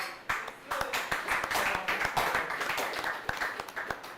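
Dense crowd applause at a press conference and fixture draw for the Ijebu Premier League, honouring a sponsor, with many overlapping claps rising quickly and holding steady and fairly near.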